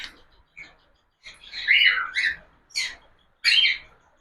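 A cockatiel recovering from a cold gives several short, bright chirps close by, in uneven bursts separated by brief silences.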